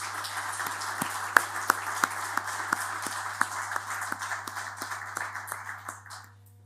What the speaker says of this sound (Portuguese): E eu acho que isso merece uma salva de palmas desde já